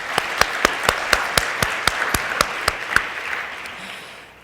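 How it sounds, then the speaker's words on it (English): Audience applause for presenters and organizers at a health talk, a roomful of clapping with a few louder hand claps standing out near the front, fading away toward the end. "So a round of applause for everyone, please."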